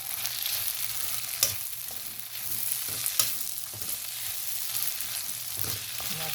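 Masala with tomato puree and chopped coriander sizzling in a pan as it is stirred, a steady bright frying hiss with soft scraping strokes and occasional louder clinks of the spoon.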